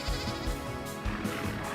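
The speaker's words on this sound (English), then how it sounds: "It sounds like there's a baby goat in there." Baby goat bleating inside the Vintage Story game, a few wavering, nasal cries close together over a background of layered in-game ambience.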